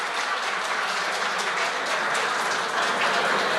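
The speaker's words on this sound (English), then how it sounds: "Lots of cheering in the background." A summit audience in Dubai cheers and applauds, a dense, steady wash of clapping and crowd noise filling the room without a break from start to finish.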